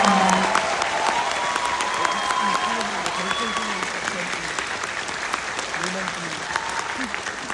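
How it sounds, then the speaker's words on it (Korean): At a navy patriotic concert, a large audience breaks into sustained applause for navy sailors, loud and continuous, while voices carry faintly over the crowd noise. "여러분 큰 박수 부탁드립니다"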